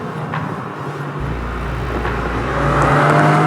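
Naturally aspirated 4.0-litre flat-six of a Porsche Cayman GT4 droning steadily, its low engine tone swelling louder toward the end as the car builds revs.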